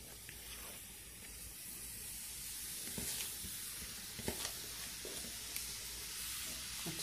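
Zucchini balls sizzle in hot oil, a soft continuous frying hiss with occasional small pops and crackles, fairly quiet and steady with no talk.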